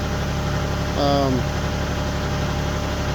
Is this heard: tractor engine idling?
yes